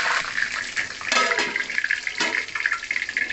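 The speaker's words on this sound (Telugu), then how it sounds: "డైరెక్ట్ కరివేపాకు అనేది ఆయిల్లో వేసేస్తున్నాము." Curry leaves dropped straight into hot oil sputter and crackle loudly, with strong hissing bursts rising over a continuous spitting noise, close by and with no talking.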